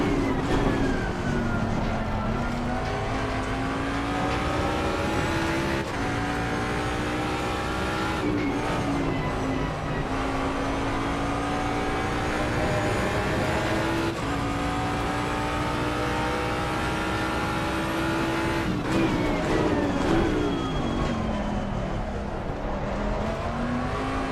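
Mustang race car in the Assetto Corsa racing game, engine note droning and revving steadily for the whole stretch, pitch sliding up and down through gear changes, loud and continuous with no talk.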